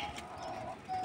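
Spotted doves kept in a backyard aviary setup cooing softly and close by, a short low coo with faint chirps from chicks in the background.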